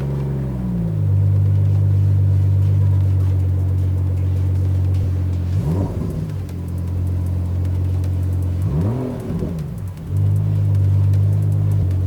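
A Rolls Royce Ghost with a Novitec valve exhaust in silent mode rumbles at a deep, steady idle, close and loud, with two brief throttle blips that rise and fall midway.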